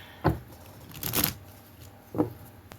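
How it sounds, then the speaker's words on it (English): A deck of cards is split and shuffled for a pick-a-card reading, with a few separate riffling bursts and snaps close by, spaced apart with quiet gaps. "I'm going to split these and shuffle"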